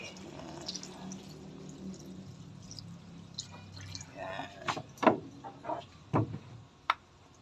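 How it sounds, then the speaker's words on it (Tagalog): One litre of water is poured into a pot of chicken being cooked for sinampalukang manok, with a soft trickle and then a series of distinct splashing drips and clinks toward the end. "Lagyan na natin guys ng 1 litrong tubig."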